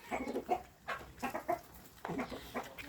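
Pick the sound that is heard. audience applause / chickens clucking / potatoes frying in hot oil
chickens clucking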